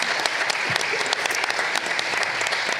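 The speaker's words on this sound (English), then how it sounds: "Please give her a round of applause." Conference audience at a panel discussion clapping in a dense, steady burst of applause from many hands, loud and sustained across the whole stretch.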